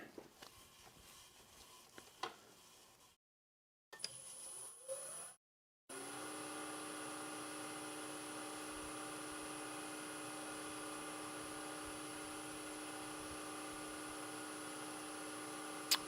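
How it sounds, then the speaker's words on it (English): Nova DVR motor on a woodturning lathe, used while making a fountain pen, starting up with a rising tone, stopping abruptly, then spinning up again into a steady whine that holds to the end. "when you got to start and stop the lathe often like this is where the Nova DVR motors really come in handy"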